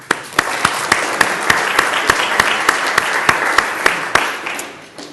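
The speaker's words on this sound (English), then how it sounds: "So I'm going to give them a round of applause, and you can join me if you'd like." An audience claps during a talk on economics. A few loud individual claps stand out at the start and over a building wash of applause that swells and then fades toward the end.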